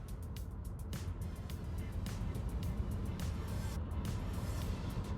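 A Volvo EX30 electric car accelerates onto a motorway from a 60 km/h road, heard from inside as a steady road and wind roar with repeated soft thumps passing beneath the tyres.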